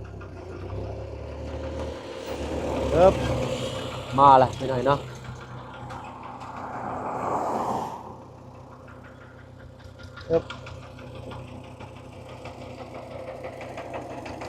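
A steady mid-pitched engine chugs throughout, like a farm tractor idling nearby, with people talking over it and a brief clank.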